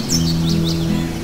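Birds singing in a village forest: a few short, clear chirps and whistled notes, close and loud, over a steady low hum.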